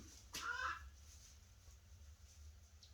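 A single brief hen cluck sounds close, then only faint background noise and a low hum follow.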